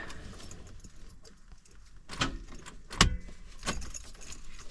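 A 1995 Ford Mustang GT convertible gives sharp clicks as the key is turned and it fails to start, a few distinct metallic clicks up close, with no voices.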